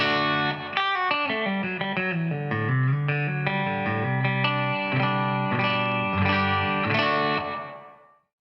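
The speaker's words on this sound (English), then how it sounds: "I get a very subtle room sound with a combination of the echo and a combination of the reverb together" An electric guitar runs through a Boss RE-20 Space Echo pedal set to echo and reverb together, playing a slow, sustained melodic phrase with a soft, springy room ambience trailing each note before fading out.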